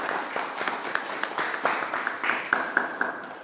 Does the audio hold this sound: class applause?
yes